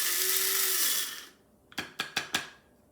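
Walnuts are roughly ground for chocolate chip muffins in a loud, whirring grinder that runs for about a second. It then falls silent, followed by four quick, evenly spaced tapping pulses.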